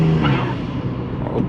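A BMW 135i with an upgraded N54 engine running at warm-up right after its first start, a loud close low rumble that holds steady through a brief moment.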